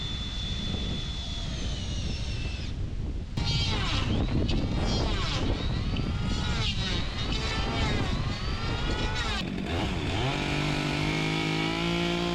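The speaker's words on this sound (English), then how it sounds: "We used a chainsaw and a plane to take down the top of the logs" A chainsaw roars continuously as it cuts the tops off logs, its engine pitch rising and falling as it bites into the wood, loud and close, with a short pause early on.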